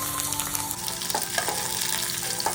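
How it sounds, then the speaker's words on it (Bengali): Nigella seeds, green chilli and chopped onion fry in hot oil, a steady close sizzle broken by a few soft stirring clicks, with no one talking. "এবার গরম তেলে কালো জিরে, কাঁচা লঙ্কা, অল্প একটু কুচনো পেঁয়াজ"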